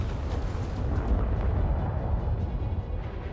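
Missile explosions in Elite Dangerous: Horizons during a ship fight, a continuous deep roaring rumble of blasts that stays loud and dense throughout without clear gaps.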